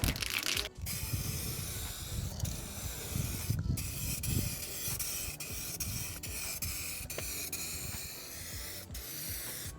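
A rattle can sprays metallic midnight purple paint in a continuous close hiss, broken by a few brief pauses and faint clicks between passes, with no one speaking.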